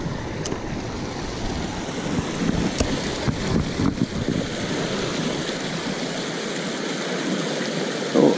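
Waterfall on a Wisconsin trout stream, a steady close broadband rush of falling water that roars continuously with no voices.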